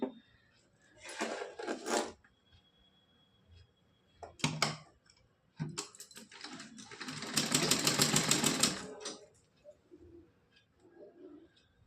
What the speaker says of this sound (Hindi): सिलाई लगाकर हम दिखा रहे हैं।